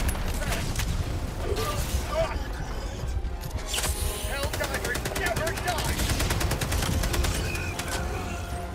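Rapid machine-gun and rifle fire in a shooter video game, loud and continuous bursts with staccato automatic strafing, heavy and close, overlapping mechanical noises throughout.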